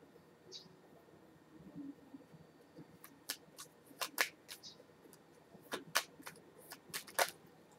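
Tarot cards shuffled and handled up close, a quiet run of crisp snaps, riffles and flicks coming in irregular bursts.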